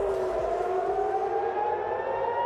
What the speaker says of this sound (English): The sound of air raid sirens as Iran fires a barrage of missiles into Israel.